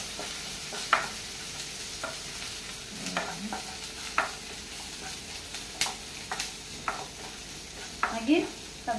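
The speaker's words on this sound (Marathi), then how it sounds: "आता हांव तातूंत घालता कांदो. ओके, कांदो एक मातशे फ्राय करून घेवपाचो." Onion fries in hot oil in a kadhai while crab xacuti is being made: a soft, continuous sizzle broken by repeated scraping and clinking stirs against the pan.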